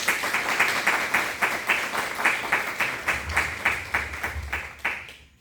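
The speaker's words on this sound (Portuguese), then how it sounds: "O acolhamos com uma salva de palmas." An audience at an academic week lecture at the Instituto São Boaventura claps steadily in a full round of applause, rhythmic and close, tapering off at the end.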